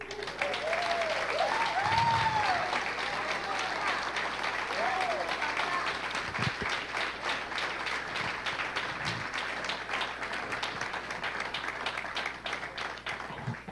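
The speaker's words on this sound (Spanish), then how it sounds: "Dale un aplauso al Señor." A church congregation applauds steadily throughout, a dense wash of clapping with shouts and voices rising over it early on and occasional whoops.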